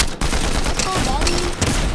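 Bursts of rapid gunfire in a video game ring out close and loud across most of the moment, layered with tonal game effects and a brief voice.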